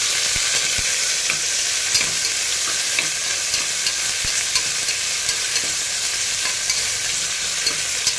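Crushed ginger, garlic and green chili sautéing in a pan for a boti gravy, a loud, continuous sizzle with faint stirring clicks throughout and no talking.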